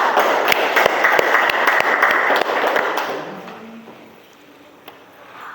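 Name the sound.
class applause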